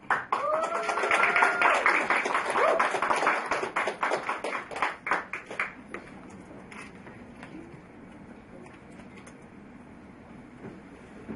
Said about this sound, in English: I like when a press conference starts with applause.